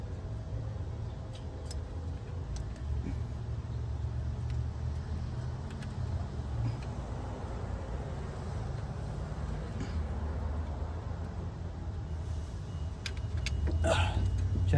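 An old car engine idling steadily on a Rochester carburetor that had sat unused for five years, a close, continuous low rumble that grows slightly louder near the end, with brief clinks over it.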